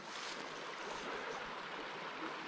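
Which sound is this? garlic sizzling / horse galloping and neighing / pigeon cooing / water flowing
water flowing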